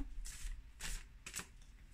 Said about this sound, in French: Je vais tirer trois cartes.